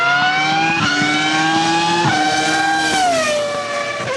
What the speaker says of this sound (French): vous avez bien entendu des Formule 1, si, avec des moteurs qui fonctionnent avec de l'essence